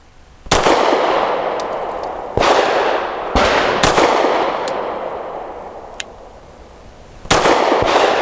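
Grand Power P1 Ultra pistol firing Winchester Defender ammunition: about six sharp, loud gunshots at irregular intervals, each with a short ringing tail and a pair of shots close together near the end.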